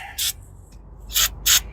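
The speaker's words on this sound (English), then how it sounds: "cover the nozzle with your rag, look away, and spray your rag" Brake cleaner sprayed from an aerosol can onto a rag while servicing a semi-truck air dryer filter: three short hissing bursts, the first brief and the last two close together, loud and near.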